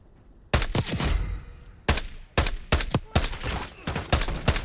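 Gunfire in the video game Call of Duty Black Ops 6, loud, sharp shots that come singly and in quick clusters, with a short echoing tail after the first.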